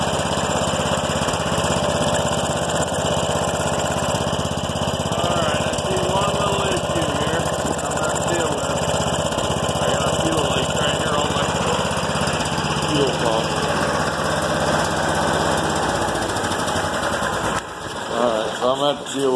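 A John Deere 212 lawn tractor engine runs steadily and loudly up close with an even drone for most of the stretch, then cuts out abruptly near the end.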